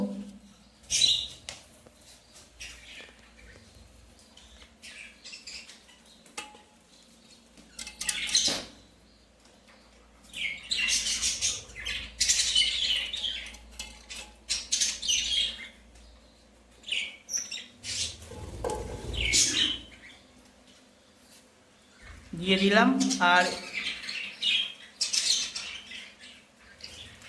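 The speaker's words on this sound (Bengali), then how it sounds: "এই খোপে কিন্তু আমার দুখানা ফিমেল একটা মেল পাখি দেওয়া আছে" Caged birds squawk and chirp in short, scattered bursts inside a breeding coop holding two females and one male, close by and moderately loud, with a few brief spoken words between calls.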